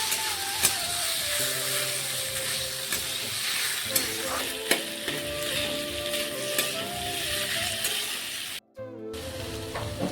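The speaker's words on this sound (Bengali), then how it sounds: "এরপরে ডাঁটা আর আলুগুলোকে একসাথে ভেজে নেব" Red amaranth stalks and potatoes fry together in a pan, steady sizzling with repeated scraping stirs and occasional knocks, close and loud, ending with a brief cutoff.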